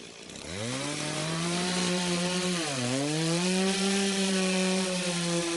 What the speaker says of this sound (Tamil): பார்த்தா அந்த பக்கம் ஆண்டோ ரம்பத்தை ரொம்பவுமே வெறி பிடிச்சவனோட்ட யூஸ் பண்ணுவான்